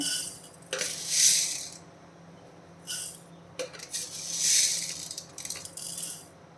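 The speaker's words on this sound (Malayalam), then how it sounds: "മൂന്ന് ടേബിൾ സ്പൂൺ മുതിര ഇട്ട് കൊടുക്കാം" Dry horse gram seeds pour into a pan in two separate bursts, each a bright, brief rattling clatter of hard little seeds on metal, with quiet pauses between them.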